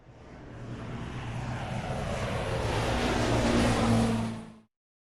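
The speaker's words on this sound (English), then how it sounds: "jet" A jet aircraft engine roars steadily, building slightly in loudness before cutting off abruptly, heard alone without speech.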